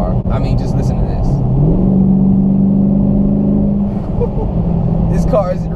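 A 2017 Dodge Challenger 392 Hemi Scat Pack muscle car revs loudly, its V8 rumble climbing to a sustained high pitch before settling back, close and dominant throughout.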